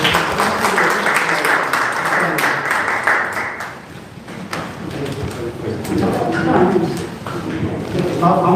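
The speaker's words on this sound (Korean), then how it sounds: "함께 수고하신 모든 분들에게 박수 하시고요" A hall audience at an academic conference gives loose, moderate applause, with the clapping rising and falling alongside people talking.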